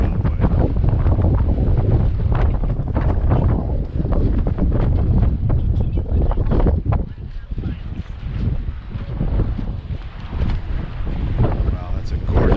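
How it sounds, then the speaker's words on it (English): Strong wind at Hoover Dam overlooking Lake Mead buffets the microphone in loud, continuous rumbling gusts, briefly easing midway, with voices talking faintly beneath it. "It's very windy today, by the way."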